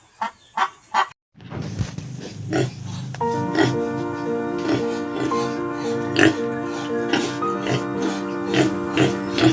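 Young piglets just awake on a backyard farm give short grunts and squeals in bursts, mixed with honking fowl calls and a steady tonal background hum nearby.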